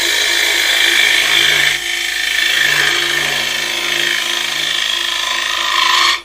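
A bowl gouge cuts wood on a woodturning lathe, a steady close scraping hiss over the motor's low hum, dipping briefly partway through, then cutting out at the end.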